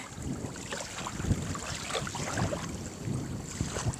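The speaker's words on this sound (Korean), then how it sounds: "진짜 바닷바람 맞는 것 같다. 바람도 불고. 바람 불어." Wind blows across an open lake, a steady rushing hiss with gusty buffeting against the microphone and faint water lapping underneath.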